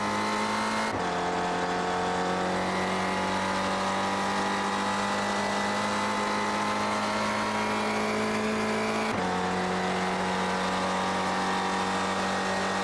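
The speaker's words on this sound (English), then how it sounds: "Not exactly short shifting either, so still letting the revs go up as far as it can." A race car at an SCCA event in Las Vegas screams at high revs on track, holding a loud sustained engine note with two abrupt gear changes, no voices.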